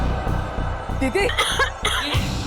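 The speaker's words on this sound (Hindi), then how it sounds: "देखो आपको खांसी भी हो रही है" A woman in a Hindi TV drama coughs repeatedly in short, rough, voiced bursts, close and fairly loud over a steady background hum.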